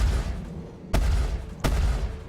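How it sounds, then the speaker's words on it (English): Ship cannons firing in the space game Star Citizen from a Freelancer, two heavy booming shots about 0.7 seconds apart over a low engine rumble. "listen to those cannons. They have this oomph, that sound."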